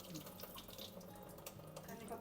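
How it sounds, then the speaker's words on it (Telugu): Toor dal, or pigeon pea lentils, is washed under a running kitchen tap. The water runs faintly and steadily into a vessel with small splashes, and there is no voice. "ఫస్ట్ పప్పు కడుక్కోవాలి"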